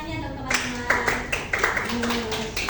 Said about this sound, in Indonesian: Beri tepuk tangannya dong teman-teman.